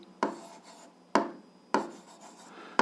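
Handwriting while working an 8th-grade algebra exercise: three distinct scratchy pen-on-paper strokes, each a sharp onset fading into a short rasp, close and fairly quiet with no talk.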